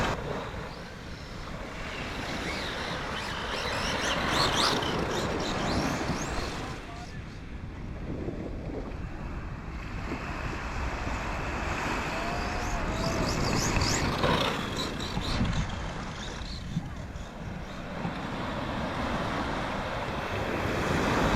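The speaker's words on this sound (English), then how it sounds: "Here I am at the beach with the Savage XS FLUX." An HPI Savage XS Flux RC car runs at the beach amid loud surf and wind gusts, its motor whine rising and falling in bursts over the crashing waves, with a voice talking intermittently.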